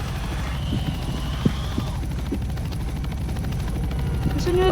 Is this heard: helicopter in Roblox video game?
yes